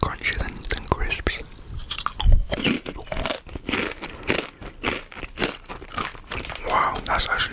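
Crunchy Mexican snack chips being bitten and chewed up close, loud repeated crisp crunches in an irregular rhythm throughout, with faint crinkling of packaging between bites.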